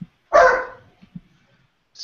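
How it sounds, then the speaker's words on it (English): A dog gives a single sharp bark, close and fairly loud, followed by a couple of faint soft sounds in an otherwise quiet indoor room. "Sorry, that's my dog."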